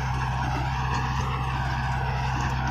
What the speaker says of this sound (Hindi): उसको एकदम पीस रहा है ट्रैक्टर,